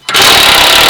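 A pneumatic impact gun undoing a 17mm bolt on a 2008 Land Rover Freelander 2 during a condenser replacement, one loud, close, sustained burst of rattling hammering that starts abruptly.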